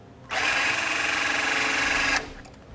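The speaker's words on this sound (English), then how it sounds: "We'll go ahead and mark the holes using a small drill bit." A small power drill with a small bit whines steadily at high speed for about two seconds while marking mounting holes for an air compressor, then stops abruptly, close and loud.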